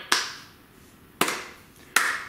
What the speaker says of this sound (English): That honestly sounds more like the slow clap